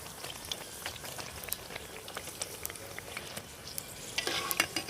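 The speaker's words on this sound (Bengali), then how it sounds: "দেখুন একটা পুরি কিন্তু ভাজা হয়ে গেল" Puri deep-frying in oil and puffing up gives a soft continuous bubbling sizzle with scattered tiny crackles, turning slightly louder near the end.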